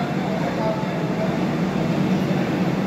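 A train standing at a station platform in Balasore, giving a steady, dense rumble and hiss of idling machinery and ambient station noise, close and continuous, with faint voices in the background.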